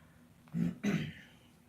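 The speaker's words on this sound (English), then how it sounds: "I'm sorry about clearing my throat." Two short, rough throat clearings in quick succession, close and moderately loud, with quiet room noise around them.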